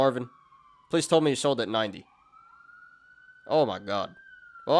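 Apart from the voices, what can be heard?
emergency vehicle sirens outside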